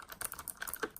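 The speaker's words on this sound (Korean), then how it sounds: "청축은 적축보다는 조금 시끄럽죠. 이런 소리가 나니까요." Rapid clicky keystrokes from an Anidees slim portable mechanical keyboard with blue switches, a quick irregular run of sharp taps close up, with no voice over them.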